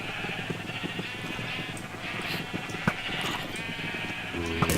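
Sheep in Minecraft bleat in short, repeated calls, a few overlapping at moderate distance over a light background of game sounds, with no talking.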